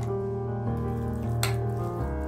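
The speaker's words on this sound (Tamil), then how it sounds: "இப்போ கொஞ்சம் கொஞ்சமாக தண்ணி சேர்த்துக்கலாம்." Water is added a little at a time into rava idli batter made from semolina mix stirred into curd, giving a soft steady trickle with a brief splashy burst midway, no talk.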